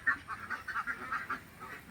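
Domestic Kuttanad ducks bathe in water in Kerala, giving a faint run of soft, rapid quacks in an uneven rhythm, alone with no voices.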